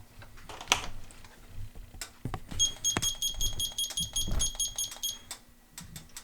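A kitchen oven timer chirps in repeated high electronic beeps, set while a homemade cast-iron skillet pizza bakes, among clicks and handling noises close by.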